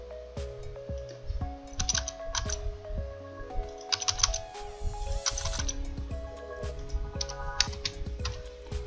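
Computer keyboard typing and shortcut presses, with irregular bursts of close, crisp key clicks and taps over a faint background.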